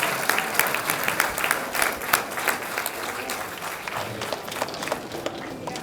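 Middle school students at an 8th grade recognition program clap for their families, a steady roomful of applause from a large group that holds at an even level throughout.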